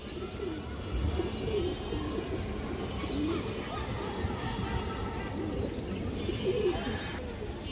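A large pigeon from a breeding pair coos in soft, low, repeated phrases, close by, over a murmur of background noise and faint chirps.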